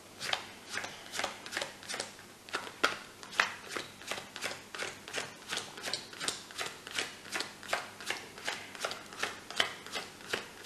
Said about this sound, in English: take hold of the cards as spectator number one. Yes. And deal face down to your number.